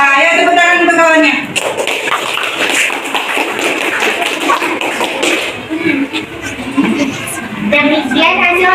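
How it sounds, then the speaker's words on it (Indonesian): Classroom applause from university students at a teacher-training session in Banda Aceh, greeting a group's presentation: dense, steady clapping lasting several seconds, close and fairly loud, with a voice speaking just before it and again as it fades. "tepuk tangan untuk kawannya"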